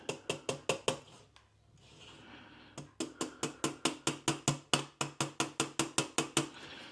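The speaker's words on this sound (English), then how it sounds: "I got my little jeweler's hammer here now. So I'll just tap them in." Rapid, evenly spaced light metallic taps from a small jeweler's hammer tapping bushings into an Ingraham calendar clock, a brief pause, then a longer steady run of quick taps close by.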